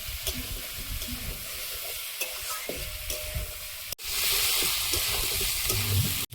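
Elephant foot yam sautéing in a pan with onion, ginger, garlic and green chili: dense sizzling with scraping stir strokes, then a brief break before a louder, steadier hiss resumes.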